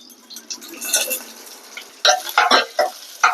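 Mustard seeds, two dried chillies and curry leaves crackling in hot oil, sharp irregular pops and spits growing louder and denser toward the end, close up with a light stirring scrape.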